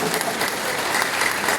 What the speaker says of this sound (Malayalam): കൈയടിച്ചോളൂ.